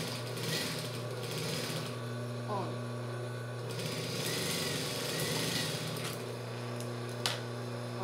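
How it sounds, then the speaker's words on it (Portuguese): A sewing machine stitches a child's shorts with pockets, closing the leg hem: a steady, close mechanical whir and hum that runs unbroken throughout. "vou fechar aqui embaixo da perninha, costurinha por costurinha"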